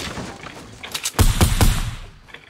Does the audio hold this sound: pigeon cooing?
no